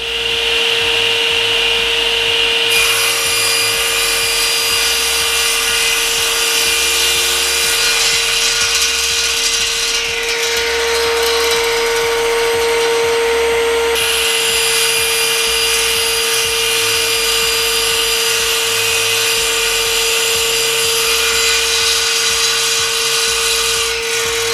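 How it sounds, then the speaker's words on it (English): Cast iron 3hp table saw with a sliding carriage cutting Iroko wood, a loud continuous high whine and rasp that holds steady throughout with slight shifts in tone as the board feeds through. "the wood is actually held in place, actually meaning that we don't have to now hold the wood other than guide it through the saw"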